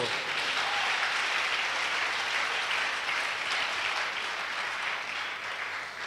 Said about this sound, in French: Acclamons le Seigneur encore.